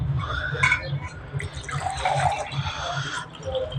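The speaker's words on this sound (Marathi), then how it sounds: "चमचा काढून थोडा असं ठेवू आणि आपल्या ग्लासमध्ये पण ओतून घेऊ" Liquid pours into a glass after a spoon is lifted out, a close, soft trickle and splash that runs steadily with small bubbly surges.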